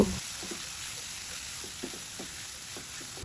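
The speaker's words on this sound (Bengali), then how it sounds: "এইভাবে কিছুক্ষণ চিকেন কিমাগুলোকে ভাজতে হবে" Minced chicken sizzles steadily in hot oil with ginger and garlic paste, a constant bright crackle broken by a few soft stirring scrapes, close and moderately loud with no voices.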